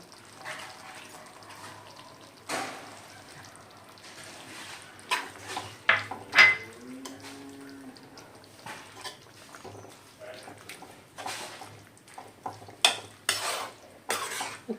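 Squid roast being stirred and mixed in a pan, with irregular scraping and clinking of a utensil against the pan that comes in bursts, louder toward the middle and end, alongside faint sizzling and no talk.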